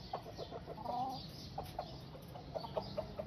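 Lasani breed chickens clucking, a hen with chicks and a rooster nearby, with short repeated clucks and chirps scattered over a steady farmyard background.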